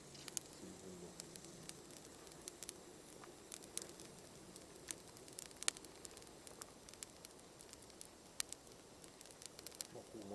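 Damp firewood sizzles faintly in a campfire, with soft steady hissing and scattered small pops and crackles close by at low volume.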